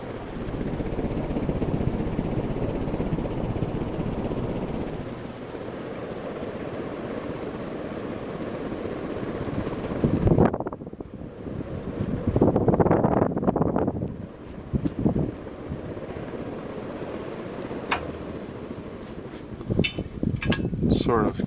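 A 1997 Hunter Original ceiling fan spins on high speed, giving a steady, close rushing whoosh of moving air with soft handling noises midway. A voice speaks briefly over it.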